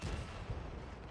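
A tank cannon fires in the World of Tanks video game, AMX M4 45 on Xbox, heard as a muffled low boom followed by a rumbling tail, fairly faint and without speech.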